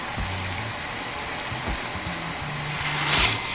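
Water sprays steadily from a hose driven by a booster pump, a constant hissing rush with low mechanical tones underneath, close and fairly loud.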